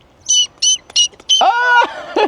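A voice squeaks in imitation of a bird: several short, high chirps in quick succession, followed by a longer, strained squeal and a final brief chirp, close and loud outdoors.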